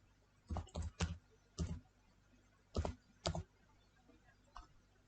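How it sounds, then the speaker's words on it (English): Sparse keystrokes on a computer keyboard while entering a spreadsheet formula: a handful of crisp, quiet clicks in small clusters, separated by short pauses, with no talking. "So select cell and type equal sign"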